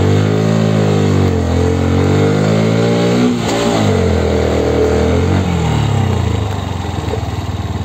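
A Bajaj Pulsar NS 125 motorcycle engine labors up a mountain road in Buxa Dooars, loud and close, with a steady, rising drone and shifting revs throughout.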